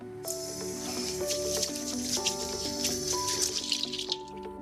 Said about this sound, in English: I'm gonna give my hands a wash